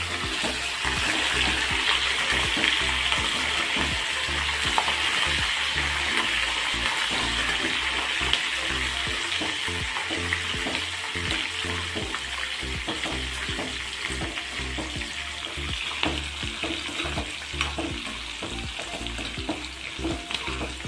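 Dry red chilies and slit green chilies fry in hot oil for lemon or mango rice, giving a loud, steady sizzle with bubbling crackle and occasional stirring clatter throughout, with no talking.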